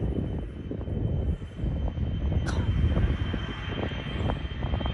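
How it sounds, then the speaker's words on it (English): Jet airplane taking off at Leeds Bradford Airport in heavy wind, a steady engine roar mixed with gusting wind noise at moderate loudness, heard from the ground outdoors. "And the airplane is just going to take off."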